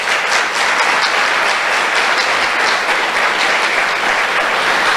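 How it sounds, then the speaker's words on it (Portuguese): A church congregation applauds in a dense, sustained wash of clapping that stays loud and even from start to finish, with no talk over it. "Você pode aplaudir o Senhor por isso?"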